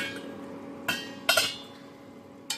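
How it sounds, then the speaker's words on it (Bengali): A metal lid clanks onto a pan of cabbage curry on a stove, sharp metallic clinks landing in a quick cluster with a later single tap, close and clear over a faint low hum. "দিয়ে ঢাকা চাপা দিয়ে দেবো 4 থেকে 5 মিনিট"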